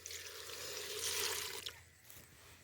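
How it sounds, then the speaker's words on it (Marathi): Water pours in a short, steady splash from a pot into a cooking pot, then thins to a trickle and stops, leaving quiet room noise. "आता एक तांब्याभर पाणी वतायचं"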